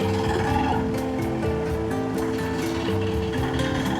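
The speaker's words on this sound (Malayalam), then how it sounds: "എവിടെയൊക്കെയോ വെള്ളം ഇങ്ങനെ ഒഴുകുന്ന സൗണ്ട് കേൾക്കുന്നുണ്ട് വെള്ളച്ചാട്ടത്തിന്റെ ആയിരിക്കണം" Steady broadband rush of flowing water, probably a waterfall, somewhere in an oil palm estate near Kollam, a continuous even wash with no voices.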